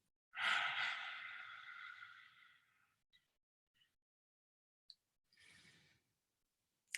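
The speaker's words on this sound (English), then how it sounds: "So it's breathing through our nose and then breathing out same way, but with tongue out." Breathing out through the mouth with the tongue out during a breathwork exercise, one long, close, airy exhale fading over a few seconds, then a few faint clicks and a shorter second breath, with no talking.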